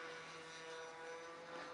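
Dynam C-47 RC model plane at full throttle in flight, with a steady, faint buzzing propeller whine holding an even pitch throughout.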